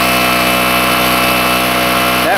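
A portable generator runs at about 70% load with a loud, constant, close engine drone and a steady pitch.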